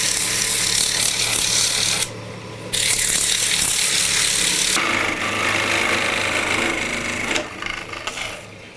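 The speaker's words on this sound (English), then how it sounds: "So I'm just going to clean this up a little bit more, sand it, part it off" A wooden eyeball spins on a lathe while it is sanded and parted off, giving a steady close rasping hiss with brief drops where the tool lifts, fading into a quieter scraping toward the end.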